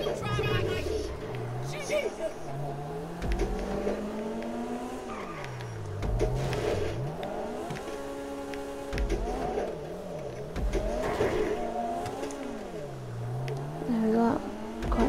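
Go-karts racing around a track in Grand Theft Auto V, their small engines revving and whining up and down in pitch. Tires squeal now and then. The engine noise runs continuously and loud throughout.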